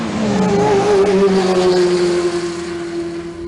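A 2010 Toyota Sienna minivan drives on the highway, carrying a steady engine and road hum with a sustained tone that slowly drops in pitch over a few seconds, close and fairly loud.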